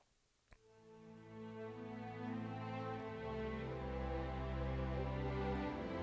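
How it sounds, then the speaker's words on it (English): A string ensemble plays soft sustained chords that swell gradually, layered bowed notes building smoothly after a brief tap at the start. "we can listen to the strings on their own"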